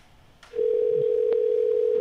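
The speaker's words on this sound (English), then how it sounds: "It's ringing." A steady telephone tone rings through a radio call-in line, starting after a soft click about a quarter of the way in and holding loud and unbroken to the end, with no voices.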